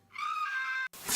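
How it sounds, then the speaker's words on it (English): A loud, sustained scream from a Lego animation holds steady for most of the clip, then cuts out briefly and gives way to a harsh burst of noise. "I still love the scream."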